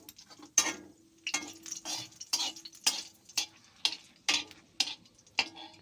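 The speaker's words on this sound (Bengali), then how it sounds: "দুটো শুকনো গোটা লঙ্কা দেব," Two dried whole red chilies hit hot oil in a wok, with a steady series of sharp scraping and sizzling bursts about every half second, close and fairly loud, with no voices.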